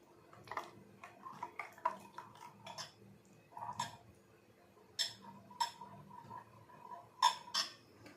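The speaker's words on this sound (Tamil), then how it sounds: "ரவை தயிர் எல்லாம் சேர்த்து நல்லா கலந்து விடலாம்." Spoon stirring semolina, yogurt and water together in a cup, faint scattered clinks and scraping taps against the cup in an irregular rhythm, close and quiet.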